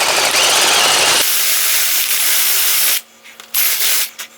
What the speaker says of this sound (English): I'm going to use a spade bit